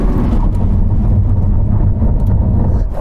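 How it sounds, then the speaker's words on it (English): A Lamborghini Aventador SV brakes hard from 60 mph, a loud, continuous low roar of engine and road noise that holds steady throughout. "Okay, brake test in the SV. Here we go, from 60."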